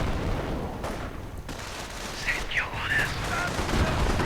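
Rifle shots in a real-time strategy game as a sniper takes positions, several sharp cracks over a busy battle din while a caster talks over the action.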